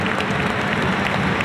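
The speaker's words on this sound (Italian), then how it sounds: "Applausi scroscianti per lui" A basketball crowd applauds a player with a steady wash of clapping, loud and even for its whole short length, with no voices on top.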